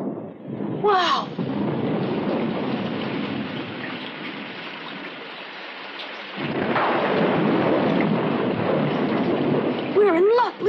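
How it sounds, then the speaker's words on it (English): A thunderstorm with a constant rain hiss and a long roll of thunder swelling partway through, joined by a brief vocal exclamation near the start and another voice near the end. "Looks like there's going to be a big storm."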